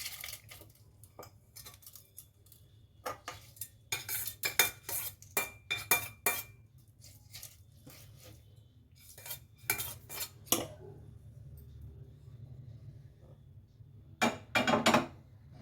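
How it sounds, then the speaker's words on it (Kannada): Metal spoon scraping and clinking against a pot in repeated bursts, close by, with short quiet pauses between rounds of stirring. "ನಾವೇನು ಒಗ್ಗರಣೆ ಮಾಡ್ಕೊಂಡಿದ್ವೋ ಅದನ್ನು ಇದಕ್ಕೆ ಹಾಕೊಳ್ಳೋದು"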